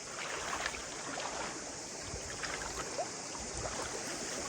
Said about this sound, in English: And yeah, it's a river. It's moving.